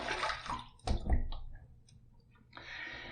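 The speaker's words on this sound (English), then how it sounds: "let me just throw some warm water on there one more time" Warm water gets splashed onto a face by hand during a wet shave, producing a few quick wet slaps and drips at close range, followed by a softer rush of running water.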